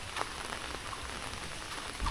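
Light drizzle falling in a village, a faint soft hiss of rain with a few scattered drop taps, quiet and steady throughout, no voices.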